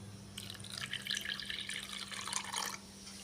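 Tamarind washed by hand in water, with soft splashing, dripping and sloshing close by, a short burst of about two seconds over a faint steady hum, no talk.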